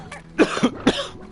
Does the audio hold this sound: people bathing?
no